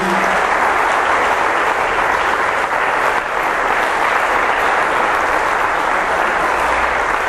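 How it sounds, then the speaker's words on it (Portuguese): A church congregation in Belo Horizonte, Brazil breaks into loud, sustained applause, a thick and even roar of clapping that fills the room for about seven seconds without any voice on top. "Damos uma salva de palmas para Jesus Cristo."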